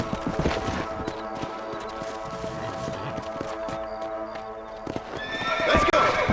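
Horses in the Red Dead Redemption western video game, with hooves clip-clopping and a loud neigh near the end, while game characters talk over the hoofbeats.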